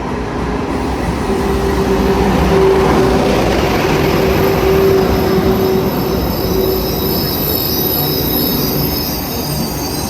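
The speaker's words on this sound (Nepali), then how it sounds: "म जाने ट्रेन आयो बुसानदेखि" A train arriving from Busan rumbles steadily and loudly, with wheels squealing against the rails and faint intermittent tonal whines over the continuous roar; no voices.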